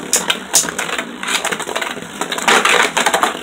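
Beyblade Burst spinning tops, Archer Hercules and Guardian Kerbeus, clash in a plastic stadium, giving a loud, busy rattle of scraping and sharp repeated metallic clicks as they spin and collide at close range, with no talking.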